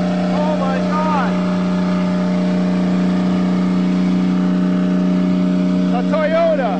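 A Toyota car engine, left standing in a forest for years, runs with its throttle stuck open, holding a loud, steady, high-revving roar close by while excited voices shout over it.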